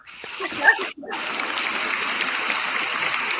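Audience applauds the winner of a comedy show: after a brief moment of voices and a short gap, dense steady clapping swells and continues at an even, fairly loud level to the end.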